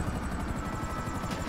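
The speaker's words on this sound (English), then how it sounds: "They got a helicopter now." Helicopter in a video game, a steady pulsing rotor drone with low thumping chop, continuous and fairly close, alone without talk.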